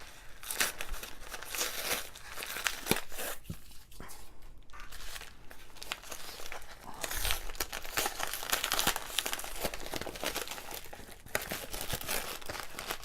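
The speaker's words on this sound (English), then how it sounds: "So we're going to open this up right on camera here." A sealed envelope from a monthly craft kit is torn open with crinkling and ripping paper sounds, close up and continuous over several seconds.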